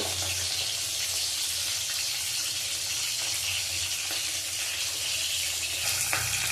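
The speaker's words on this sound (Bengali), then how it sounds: "দেখো মাছটা ভাজা হয়ে গেছে।" Steady, loud sizzling of fish frying in hot oil in a pan, a continuous crackling hiss with no voices.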